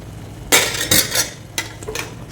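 A spoon stirs turmeric into a potato and bottle gourd gravy in a pan, making a few close scraping strokes with light clinks and a soft sizzle between them.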